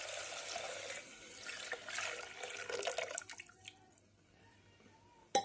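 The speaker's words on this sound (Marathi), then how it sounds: "आता आपण याच्यात पाणी ॲड करून घेऊ डाळ टाकून घेतलेली आहे मी" Water is poured from a vessel into a pot of roasted dal for a quick varan. The faint, close splashing pour lasts about three seconds, then trails off into a few small drips and a clink.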